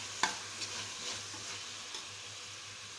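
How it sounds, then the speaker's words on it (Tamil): Mint leaves stirred into an onion-tomato masala in a pan for chicken biryani, with a soft sizzle and a few quiet, scattered scrapes of the spoon. "இப்போ புதினா இலைகளை அதோடு சேர்த்துக்கலாம். நல்லா கிளறி விட்டுக்கலாங்க."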